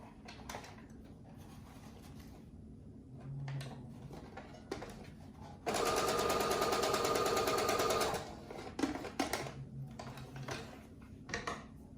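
A home sewing machine runs in one steady burst of about two seconds as it stitches a small dart in a breathable fabric face mask. Quieter handling and rustling come before and after the burst.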